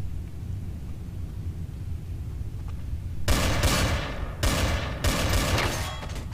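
Gunfire in Counter-Strike: Source: after a few quiet seconds of low background hum, sudden loud bursts of rapid shots break out in three close-spaced volleys, sharp and near.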